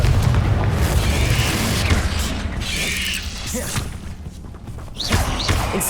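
Confringo explosive spell blasts in Hogwarts Legacy, fighting spiders inside a house, thud heavily over a continuous rumble, with mechanical clanks and a few sharp impacts toward the end.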